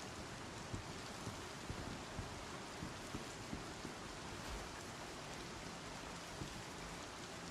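Steady rain falls in the Star Citizen space game on R-Corp, a constant hiss of downpour with faint scattered droplet taps, quiet and uninterrupted.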